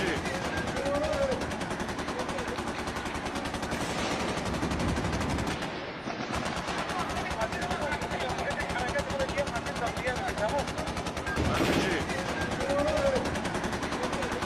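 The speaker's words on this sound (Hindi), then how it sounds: "कुर्दिश इलाके में भयंकर गोलीबारी" Heavy gunfire during an army attack on a Kurdish district of Aleppo, Syria: dense, continuous crackling bursts and rattling shots fill the scene loudly, with a brief dip midway and a news presenter talking over it.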